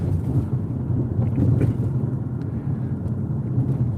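A car rolls along a bumpy road in the rain, heard from inside as a constant low rumble and buffeting wind noise with occasional knocks from the uneven surface.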